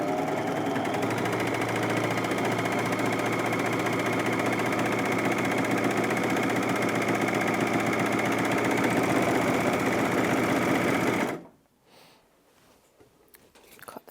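A Bernette Funlock b44 overlocker sews a test seam in one steady, fast mechanical whir for about eleven seconds, close and loud, then stops abruptly, leaving faint handling sounds.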